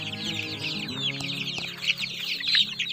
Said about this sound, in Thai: ลูกไก่อยู่ในนี้ในคอกนี้นะครับ